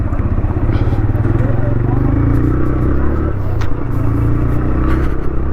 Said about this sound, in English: And the exhaust note is very good.